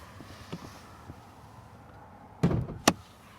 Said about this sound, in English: let's go ahead and soft close this door